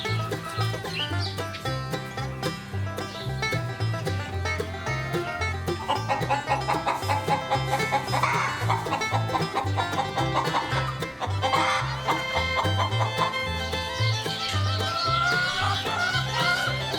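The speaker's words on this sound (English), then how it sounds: "This is the chicken pen, filled with some loud chickens." Chickens in a farm pen at an Audubon center cluck and call in a busy, continuous chorus, heard close and fairly loud throughout.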